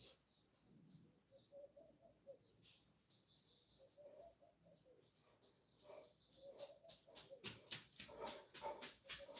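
Faint barking, a series of short yips and woofs getting quicker and denser toward the end, with some bird chirps mixed in and no talk.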